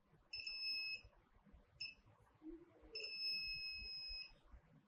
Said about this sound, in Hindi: बीप साउंड दे रहा है